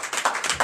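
A church congregation at a Sunday service in Comè, Benin, claps together in a steady rhythm of dense, continuous hand claps, loud and close, with no voices over them.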